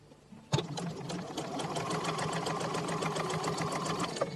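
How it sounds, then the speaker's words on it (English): A sewing machine fitted with a 1/4 inch foot stitches a straight line through pinned scrap fabric, starting with a sharp click and then running a steady, close, continuous whirring rhythm for several seconds with no talk. "I'm just going to sew straight over that line, nice and gently"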